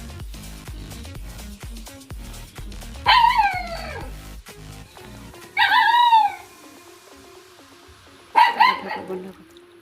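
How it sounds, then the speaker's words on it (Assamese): A dog gives three drawn-out, whining barks spaced a few seconds apart, loud and close, over steady rhythmic music. "আমাৰ কুকুৰটোৱে বহুত ভোকে"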